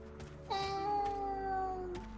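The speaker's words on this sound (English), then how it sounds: "I hear you, I hear the cat." A cat in Hotel Owner Simulator lets out a single drawn-out meow, clear and fairly close, rising then sliding slowly downward and trailing off, with a quiet game background underneath.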